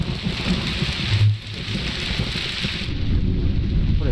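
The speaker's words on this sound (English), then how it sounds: "I really like the rain sound effects." Steady heavy rain in the horror video game Immure pours continuously, with a low rumble of thunder rolling underneath partway through.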